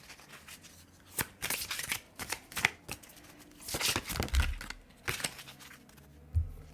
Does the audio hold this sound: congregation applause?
no